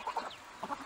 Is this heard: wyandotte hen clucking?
yes